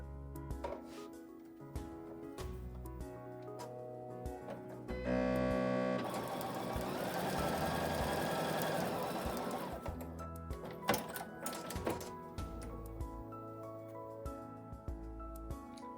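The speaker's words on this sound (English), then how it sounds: "So I'll put this one here, and then I'll sew across here." Domestic sewing machine stitching quilt fabric pieces together for a wonky star block, a steady mechanical whirr running for several seconds mid-clip between quieter handling sounds and clicks.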